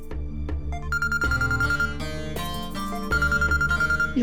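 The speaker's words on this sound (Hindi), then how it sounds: "इसको फोन आ गया।" A phone ringtone plays a bright, repeating electronic melody, loud and close, with no talking over it.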